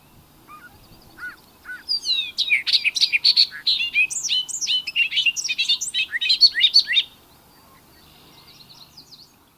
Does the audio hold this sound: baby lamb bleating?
no